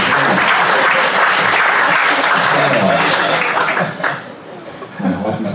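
A comedy club audience applauds loudly at a stand-up show, the dense clapping holding steady before tapering off near the end, with a few chuckles and a voice starting to speak as it fades.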